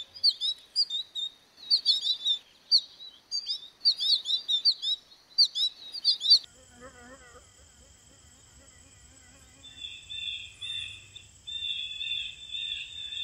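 Goldfinches call beside a beaver pond in midsummer: a run of bright, thin chirps for several seconds, then quieter high twittering over faint background hum.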